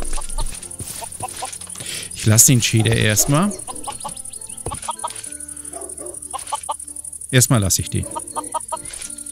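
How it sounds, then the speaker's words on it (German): Chickens in the video game Minecraft cluck in repeated short bursts, with a couple of louder clusters of calls, while someone talks over them in German. "Warum ist es so, als ob hier so viele Hühner sind?"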